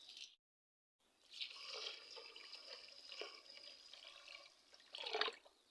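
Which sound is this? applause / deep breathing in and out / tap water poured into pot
tap water poured into pot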